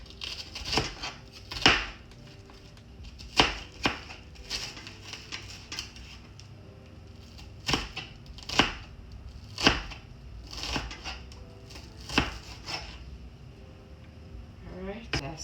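A knife chops garlic and onion, or scallion, on a board in a kitchen, giving scattered sharp knocks in short irregular bursts with soft gaps between them, close and fairly quiet.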